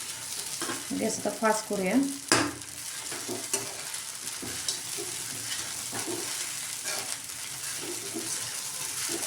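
Sago pearls being stir-fried in a pan for sabudana khichdi, giving a soft continuous sizzle with scraping stirs and a sharp clatter early on, while someone speaks briefly over it.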